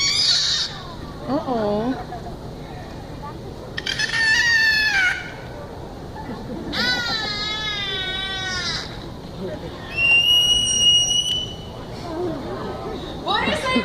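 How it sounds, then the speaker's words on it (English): Beluga whales call to one another in rising and falling squeals, whistles and chirps. The calls come in several separate bursts, some shrill and piercing, with quiet background noise between them and a brief spoken remark early on. "Now those are some of the noises that belugas use to communicate with one another"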